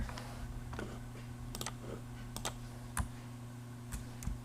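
Typing on a computer keyboard, a sparse run of light close key clicks and taps in irregular rhythm over a steady low electrical hum, with no talking.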